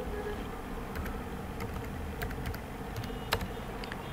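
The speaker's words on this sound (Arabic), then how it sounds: "دبل كليك على الكلمة اللي عايزين نحذفها، ونكتب" Computer keyboard typing during a computer essentials exam walkthrough, faint scattered key clicks over a steady background hum, with one sharper click near the end and no talking.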